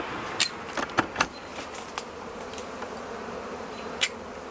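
A low background hum of buzzing bees during a tree trapout, with a few brief, sharper buzzes as bees fly close past.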